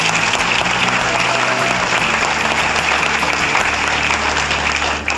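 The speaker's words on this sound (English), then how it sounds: "give them a round of applause" Sustained, loud applause from a dinner audience at a Rochester Ravens girls' team kickoff event, dense steady clapping filling the room without a break for several seconds.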